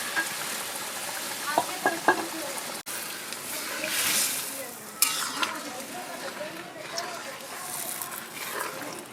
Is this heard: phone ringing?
no